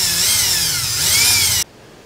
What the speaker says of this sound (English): I'm gonna drill a hole, loop some baling wire around it